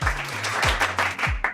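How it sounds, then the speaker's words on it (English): Short burst of dense crowd applause, loud and continuous over a bit more than a second, with a low voice-like tone running beneath. "Clap it up for me"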